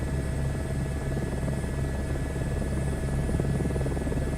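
H125 helicopter in a flight simulator game, a dense continuous rotor thrum with a low pulsing beat and a steady turbine whine over it, unbroken and even throughout.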